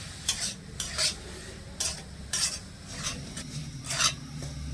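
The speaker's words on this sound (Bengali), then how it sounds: "জলটা কিন্তু অল্প অল্প করে দিতে হবে ঠিক এভাবে অল্প করে দেবো আর মেশাতে থাকবো" Semolina is stirred in a pan while water goes in little by little, giving a rhythmic series of scraping, rasping strokes with soft sizzling between them, close and steady.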